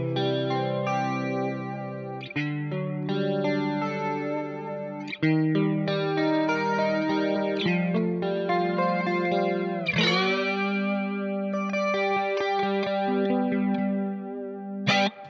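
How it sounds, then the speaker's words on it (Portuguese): Electric guitar through the A-chorus effect on a Valeton GP-5, for an 80s-style tone: shimmering, chorused, sustained chords and arpeggiated notes played continuously and fairly loud. "Para esse som ficar perfeito para os anos 80, é só adicionar um chorus."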